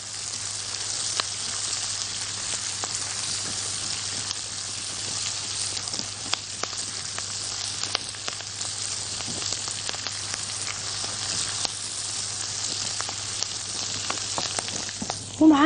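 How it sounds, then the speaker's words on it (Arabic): Bell pepper sautéing with onion and garlic in a pan makes a continuous, even sizzle with faint crackles throughout, close and steady, with no talking. "وانزله عشان يتشوح مع البصل والثوم"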